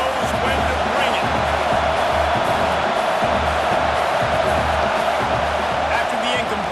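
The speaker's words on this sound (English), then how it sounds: "This crowd knows when to bring it." Dense stadium crowd roar in College Football 26 during a Wisconsin vs Miami (OH) game, a steady loud wash of cheering with a pulsing low chant that runs through the whole stretch and has a commentator talking over it.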